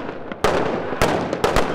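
Gunshots ring out during St. Paul police K9 training, several sharp loud cracks spaced about half a second apart, each followed by a brief decay.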